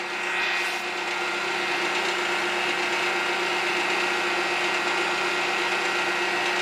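Heat gun blowing hot air to dry wood turning on a lathe, a steady, close whirring roar that holds unbroken throughout.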